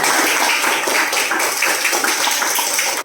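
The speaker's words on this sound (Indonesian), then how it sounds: "Tepuk tangan untuk kelompok A." A classroom group claps together in steady, dense applause, close and lively, for a few seconds before stopping abruptly.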